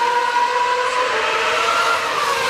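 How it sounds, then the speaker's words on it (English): Formula 1 cars race at the 2009 Australian Grand Prix, with a loud, sustained high-pitched engine whine that holds steady and shifts slightly in pitch, with no talking. "we've got these cars flying around this racetrack"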